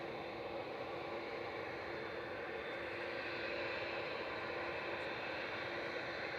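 Qatar Airways Boeing 787-9 at Manchester Airport, a constant distant jet engine rumble and hiss holding steady throughout, with no voices.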